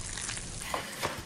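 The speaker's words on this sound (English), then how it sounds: "That's the sound of scrambling eggs, sizzling bacon, and fresh biscuits headed for the breakfast bar." Bacon sizzling and eggs scrambling in a pan for a breakfast bar, a steady bright crackle of frying with a couple of soft stirring scrapes, close and continuous.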